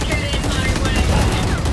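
Rapid automatic gunfire in the video game Valorant, dense loud bursts of shots over a short stretch, with players' voices mixed in.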